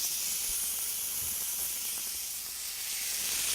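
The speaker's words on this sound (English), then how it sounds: "So here in our pan, we'll add some olive oil. It's a hot pan. And we start to sear." Beef searing in a hot pan with olive oil, a continuous bright hiss and sizzle held close and steady, with no talk.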